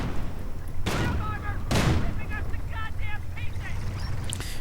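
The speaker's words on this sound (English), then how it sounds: "Ostwind moves in again. Fires away with its gun and comes under fire from the pack" Ostwind flak tank firing its 37mm gun in a real-time strategy game, two loud booming shots about a second apart over a constant battle din, with a commentator talking rapidly throughout.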